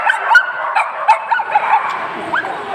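A black dog named Pinik, a biter, gives short yips, whimpers and soft barks close by in a continuous fretful run.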